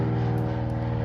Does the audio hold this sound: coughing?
no